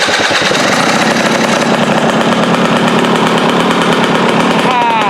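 A Husqvarna TE 300 two-stroke dirt bike engine running at a fast idle after top-end work, a loud, rapid, steady popping rattle up close throughout.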